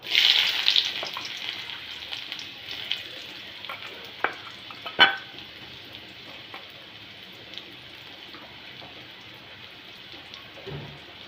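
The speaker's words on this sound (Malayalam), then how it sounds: "ഇനി നമുക്ക് സവാള ഇട്ട് കൊടുക്കാം." Chopped onion fries in a pan with a crackling, rain-like sizzle, loud at first and then settling, with scattered stirring clicks and one sharp knock of a utensil, close and with no voices.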